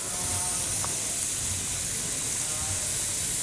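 Onions and celery sizzle steadily in melted butter and olive oil, giving a soft continuous hiss with faint crackles in a quiet kitchen.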